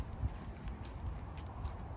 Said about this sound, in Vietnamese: Tất cả ngựa đi theo bác kìa.